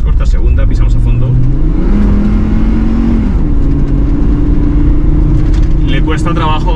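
A Hummer H3 with a 3.5-litre engine accelerates at full throttle in second gear, a loud, close, steadily rising engine drone with a gear change midway, while someone talks over it.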